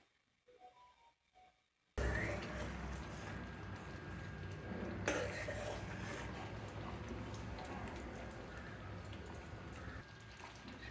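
Chana masala is stirred in a cooking pot with a steady, close scraping and sloshing that keeps going from about two seconds on, after a quiet start.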